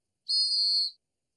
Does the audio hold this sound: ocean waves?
no